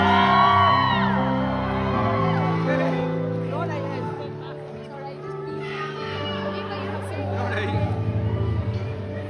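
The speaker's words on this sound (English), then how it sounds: "let's give her a massive cheer when she comes on" A concert crowd at SWG3 in Glasgow, waiting for the performer, whoops, yells and shouts loudly and continuously, with a dip near the middle and a fresh swell toward the end.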